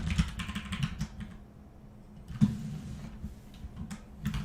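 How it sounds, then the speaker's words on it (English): Soft typing on a computer keyboard in a quiet room, with scattered light key clicks and a slightly louder tap cluster partway through, faint and close without any voices. "I'll try to be quieter on the keyboard, sorry about that"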